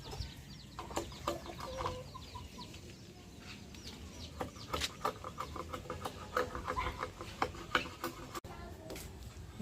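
Chickens cluck and murmur nearby in short, irregular calls, with people talking in the background.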